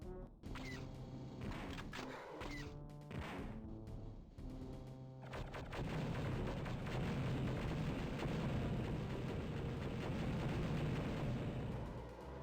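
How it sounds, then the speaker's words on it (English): Star Wars Dark Forces gameplay, with booming blasts and a heavy rumbling explosion that builds into a sustained roar over a layer of game music, loud and continuous, with no talking. "He just fired a missile into the room."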